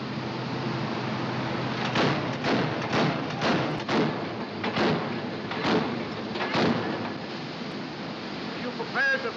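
Eight rounds from a 40mm naval gun aboard a warship at sea, heard as a series of roughly evenly spaced heavy thuds over a steady background roar.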